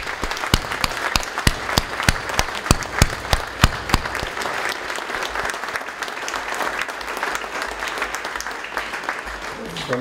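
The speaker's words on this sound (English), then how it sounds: "Would you give them" An audience at a fire department awards ceremony applauds steadily for around ten seconds, with a few sharp individual claps standing out over the continuous clapping.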